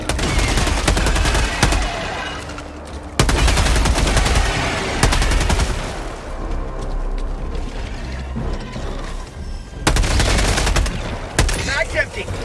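Loud, sustained automatic gunfire from a weapon in the PS5 game Helldivers 2 rattles in dense bursts, with brief pauses and mechanical clicks between them and a final burst near the end.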